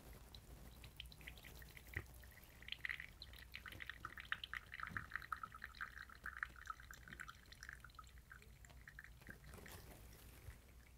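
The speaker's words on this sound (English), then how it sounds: "We're just gonna push out any remaining water." Leftover water is pressed out of a manual lever espresso maker, a faint, close dribble and spatter of liquid lasting several seconds before tapering off.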